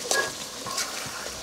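Poultry meat sizzling and frying in a pan with turmeric, with scraping stirs of a spoon over a steady close crackle and no talking.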